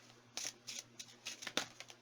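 Tarot cards shuffled by hand in a quick run of crisp riffling bursts, about eight short papery flutters, close and fairly soft in a quiet room.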